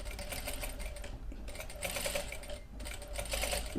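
A sewing machine runs a straight stitch with silk thread in a steady, close mechanical whir, broken by two brief slowdowns before picking up again.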